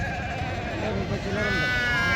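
Sheep bleating at a busy livestock market in Pebbair, drawn-out wavering calls close by over a crowd murmur, with people talking in the background.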